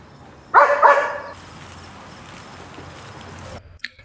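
A guard dog gives a single loud, close bark, followed by a few seconds of quiet room noise and a faint sound at the very end.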